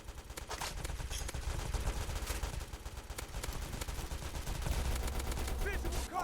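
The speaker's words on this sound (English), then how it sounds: "smart turret engaging. Contact locked. Firing now." Rapid automatic gunfire from a smart turret in a first-person shooter video game rattles continuously and loudly, layered with dense battle noise and game effects throughout.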